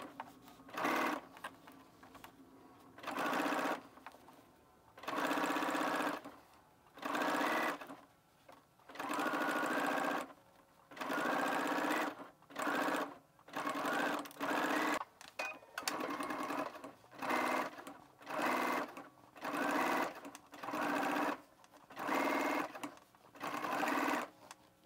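Home sewing machine stitching seams on a dress, running in repeated bursts of a second or two separated by short pauses, close and steady, with no talking.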